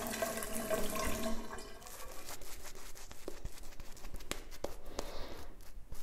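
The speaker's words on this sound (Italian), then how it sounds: "Ancora qualche goccio d'acqua." Water trickles and splashes into shaving soap being lathered for a wet shave, with a wet swishing, churning texture that continues steadily and close by throughout.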